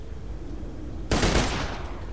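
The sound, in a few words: burst-fire gun shooting in Borderlands 2 video game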